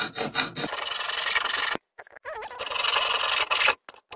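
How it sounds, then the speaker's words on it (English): Hand sawing with a steel saw through a metal Pentium 4 CPU cooler clamped in a vise, steady rasping back-and-forth strokes in two bursts separated by a short pause, close and loud. "So here we are cutting into this piece. Backstroke with a steel saw or something."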